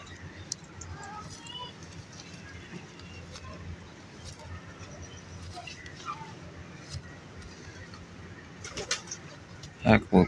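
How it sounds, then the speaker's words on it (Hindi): Jonsira pigeons coo softly and repeatedly over a steady outdoor murmur, with people talking nearby and a few louder handling thumps near the end. "उस्ताद हरां का कबूतर है"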